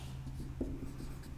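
Chalk or marker writing a chemical equation for nitrous acid dissolving in water on a classroom board, a soft, faint scratching over low room hum with one brief louder tap, no voices.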